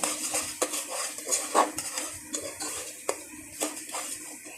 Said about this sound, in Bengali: কিছুটা মরিচ গুঁড়া দিয়ে এখন ভালো করে নেড়ে চেড়ে নেব